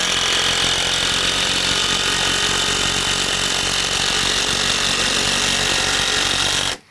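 Impact driver sinking structural screws into a wooden deck frame, a loud, close, continuous hammering buzz that runs unbroken for several seconds before cutting off abruptly, with no talking.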